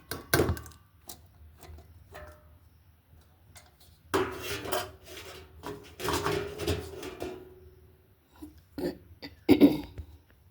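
Sliced bitter gourd, vegetables and spices being mixed by hand in a bowl in a village kitchen, with irregular soft thunks and dish clatter, louder bursts around the middle and end, no talking.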